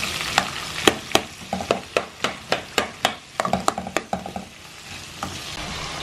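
Chopped onion sizzles in butter and oil in a hot pan. The steady frying hiss is cut by a run of sharp, evenly spaced knocks of a utensil against the pan.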